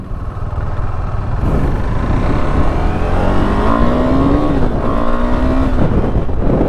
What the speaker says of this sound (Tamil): மெயினான விஷயம் இந்த ரட்டா சவுண்டு தாங்க அல்ட்டியாக இருக்குது